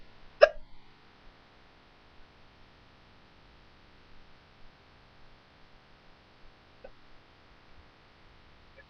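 One sharp, close hiccup near the start, followed by mostly quiet room tone and a much fainter second hiccup later, with no talking.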